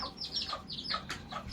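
Bantam chickens in a coop cluck and chirp in quick, repeated bursts, fairly close but soft, with no talking.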